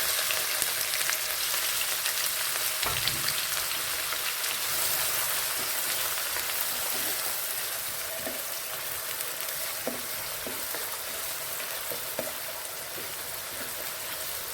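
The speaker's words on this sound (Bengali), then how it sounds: "পেঁয়াজ কুচিটা হালকা ব্রাউন করে ফ্রাই করে নিতে হবে" Chopped onion frying with garam masala in hot oil for a masala egg curry: a steady, close sizzle throughout, with a few soft stirring clicks and no voices.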